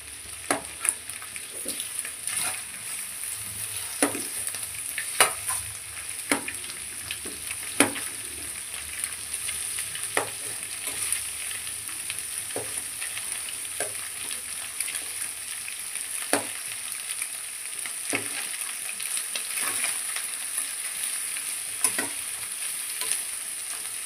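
Blood fry sizzles in a pan over a medium flame: a steady loud hiss runs throughout, broken by frequent sharp crackles and pops at an irregular pace.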